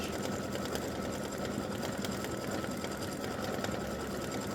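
Computerized embroidery sewing machine stitching letters on a fabric block, a steady, fast mechanical whir with rapid needle chatter running continuously and close up throughout.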